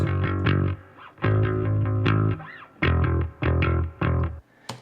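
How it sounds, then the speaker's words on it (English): Electric bass run through a CLA Bass plugin, its growl and distortion audible as a thick, gritty low line with harmonic buzz. The notes come in punchy phrases separated by short gaps, loud and upfront with no talking. "you can add that growl, and it just gives the bass some natural distortion"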